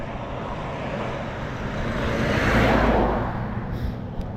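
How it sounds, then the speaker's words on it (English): A tractor trailer truck rumbles past on a road in Maine, its low roar building to a loud peak and then fading while walkers stay quiet. "That was a nice tractor."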